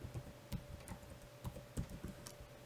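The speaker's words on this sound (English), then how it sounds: "you come here, you type in the name of your website" Keys tapped on a computer keyboard while a website name is typed, a quick irregular run of close, light clicks over a faint steady hum.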